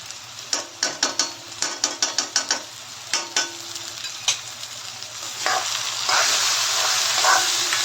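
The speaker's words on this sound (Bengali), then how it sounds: "মশলাটাকে ভালো করে আমি এবার কষিয়ে নিচ্ছি" Masala spices with ghee, turmeric and a dried red chili are sautéed in a pan for lobster curry. A run of sharp, rhythmic spoon scrapes and clacks gives way to a loud, steady, close sizzle, with no talk.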